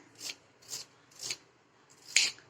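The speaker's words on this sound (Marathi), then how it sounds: "बघा किती मस्त फटाफट कापला जातोय कांदा" Onion for upma is chopped quickly on a board, four crisp cutting strokes spaced about half a second apart, the last one sharper and louder, with no talk.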